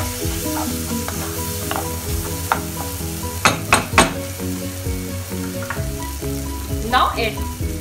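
Eggplant masala with kasuri methi frying in a pan, a loud steady sizzle with clusters of spoon scrapes and clinks as it is stirred, close by with no talk.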